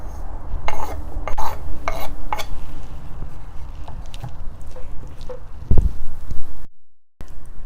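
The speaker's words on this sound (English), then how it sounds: "now I am going to mix all the vegetables in the cauliflower." A spoon scrapes and stirs chopped vegetables into cauliflower in a bowl, giving loud, close, uneven rubbing and clinking strokes with brief pauses and a short silent gap near the end.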